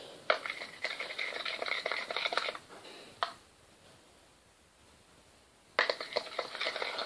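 Scented clay slime stirred by hand, soft sticky squelching and rubbing in bursts, pausing briefly mid-way before resuming, quiet and close.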